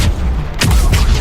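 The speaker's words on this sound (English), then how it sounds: "There's a giant explosion based off of what type of ability the primer was." A giant explosion from a detonator combo in the video game Mass Effect 3: heavy, booming blasts with a sharp burst followed by another, loud and set against steady battle noise.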